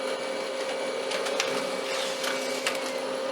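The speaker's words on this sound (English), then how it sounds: "I'm going to make a printout of this board" A laser printer prints a PCB layout for a homemade MIDI patch storage box, giving a steady close mechanical whir with a few faint clicks and ticks through the run.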